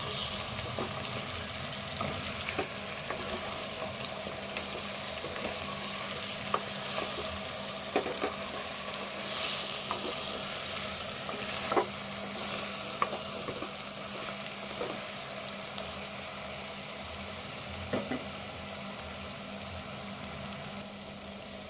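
Tomato frying in a pan for goat leg curry gives a steady, bright sizzle, with scattered clinks and scrapes of stirring throughout.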